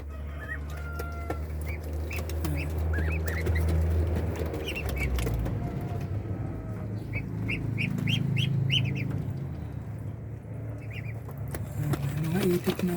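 Muscovy ducklings two to three weeks old give repeated high peeping chirps in quick bursts, mixed with a person talking and a busy background hum.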